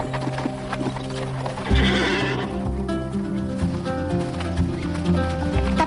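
A horse whinnies loudly and close by around the two-second mark, with hooves clip-clopping at a stable amid a busy backdrop of scored background sound; no voices are heard.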